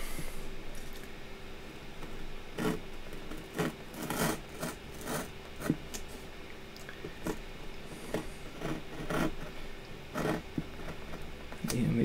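A fresh scalpel blade saws through cardboard, giving repeated close, dry rasping strokes in an uneven rhythm with short scraping bursts.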